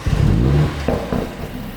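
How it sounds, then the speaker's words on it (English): A 2021 Mercedes-AMG GLA 45 S engine starting with a sharp loud rev that swells and then settles toward idle with a couple of smaller blips, close and without talk. "we're going to turn the car on, see what it sounds like when you hold the pedal"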